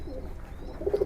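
A Giribaj racing pigeon gives a few soft, close coos while being held, short low calls rising toward the end over quiet background.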